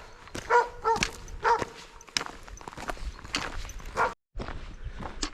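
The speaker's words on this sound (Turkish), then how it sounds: "Şimdi bir tane köpekle karşılaştım. Olabildiğince havlıyor" A dog barks several times at a distance on the Lycian Way hiking trail in Turkey, mixed with footsteps and scuffing sounds, moderately loud with short pauses.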